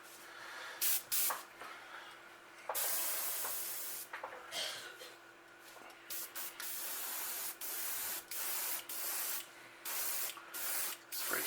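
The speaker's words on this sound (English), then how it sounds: "With this color, the more you spray, the darker orange it gets." An airbrush or spray can hisses in short bursts and a few longer passes as orange paint is sprayed onto a fishing bait through a 3D stencil, close and steady, with brief gaps between sprays.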